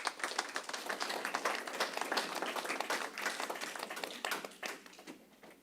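An audience at a school district board meeting applauds its certificated staff and teachers, a steady wash of many hands clapping together that carries on throughout, somewhat distant and moderate in level.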